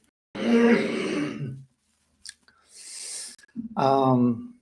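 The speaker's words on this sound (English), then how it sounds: "had to clear my throat" Someone clears their throat close to the microphone with a couple of deep, rasping rumbles, a breathy exhale between them.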